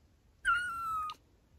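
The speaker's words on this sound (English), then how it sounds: "Suddenly, she heard a noise. It was a kitten noise." A single clear kitten meow, drawn out for under a second, sounds close by in an otherwise quiet space.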